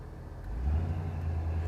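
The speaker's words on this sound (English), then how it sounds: "We're going to run through a couple gears here." A 1986 Ford F-150 pickup with a Flowmaster exhaust runs through its gears, giving a low, steady engine rumble that swells in loudness partway through the short stretch.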